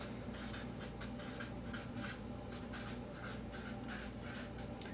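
A pen scratching across paper while a diagram is sketched, steady rhythmic strokes in quick repeated bursts, close but very faint, with no talking.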